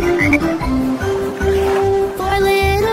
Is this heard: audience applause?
no